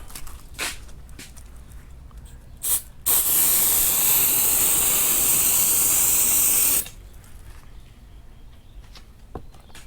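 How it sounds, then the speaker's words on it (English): An aerosol spray can hisses in one continuous burst of about four seconds onto a cracked dashboard pad in a Chevy, with quieter handling clatter before and after. "Now we'll spray that."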